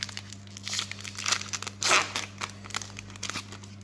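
Dominaria Magic booster pack wrappers crinkled and torn open by hand, several close bursts of foil crumpling and ripping over a steady low hum.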